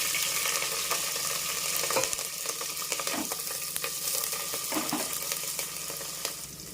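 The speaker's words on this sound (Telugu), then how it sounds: "పచ్చిమిరపకాయలు కట్ చేసి పెట్టుకున్నాను నేను. ఇది కొంచెం నూనెలో బాగా ఏగనిద్దాం" Cut green chillies fry in hot oil, giving a loud, continuous sizzle with occasional soft stirring scrapes and bubbling pops.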